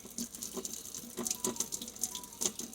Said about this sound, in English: I'm just going to have you watch me wash my hands.